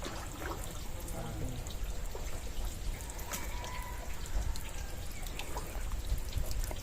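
Continuous water flowing and splashing as a fishpond drains through a pipe, a steady gushing trickle with scattered drips, close by and without talk.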